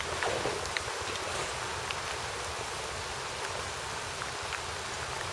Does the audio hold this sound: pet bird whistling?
no